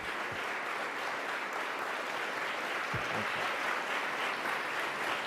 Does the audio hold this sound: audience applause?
yes